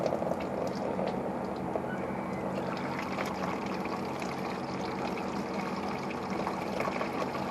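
Coolant water gushes and splashes continuously from a Honda Goldwing motorcycle during a radiator hose replacement, streaming over the belly pan in a steady, close-up pour.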